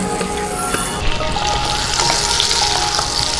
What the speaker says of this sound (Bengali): নুন, হলুদ, লঙ্কা গুঁড়ো মাখিয়ে আমি আলুগুলো ছেড়ে দিচ্ছি কড়াইয়ের মধ্যে।